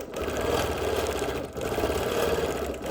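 A sewing machine stitching steadily while quilting around a Dresden plate quilt block, a close, even mechanical whir with a rapid needle rhythm and a brief dip in the middle.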